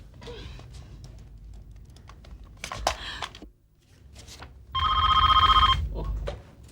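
An office telephone bell rings once in a loud burst near the end after clicks, creaks and rustling in a quiet room, with no talk over it.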